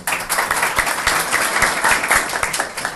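Applause breaks out for a prosecutor at a public ceremony, a dense, loud wash of many hands clapping steadily throughout, with no speech on top.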